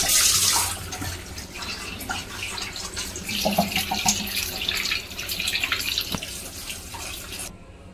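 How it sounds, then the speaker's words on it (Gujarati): Cold water runs steadily from a tap into a sink, splashing and hissing over boiled potatoes for several seconds before cutting off near the end. "આપણે થોડા ઠંડા પાણીથી બધા ધોઈ લઈશું બટાટા"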